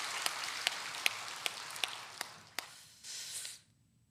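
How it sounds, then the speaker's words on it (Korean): A church congregation at a Pentecost Sunday worship service applauds together, a soft, even wash of clapping with a few sharper claps standing out, then a brief swell that dies away into quiet. "성령님의 역사하심을 믿고 선제박수로 영광을 돌리겠습니다"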